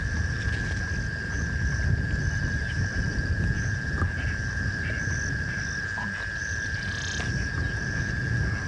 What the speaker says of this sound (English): you can hear quite a few different species of insects and frogs